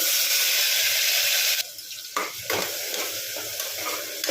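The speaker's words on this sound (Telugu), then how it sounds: "ఇప్పుడు మిక్సీ పట్టుకుని ఆనియన్ పేస్ట్ వేసుకున్నామండి ఇందులో." Onion paste frying in oil after cumin and mustard seeds, for a cauliflower and potato kurma: a loud, steady sizzle that breaks into choppier bursts of stirring and scraping, close up with no talking.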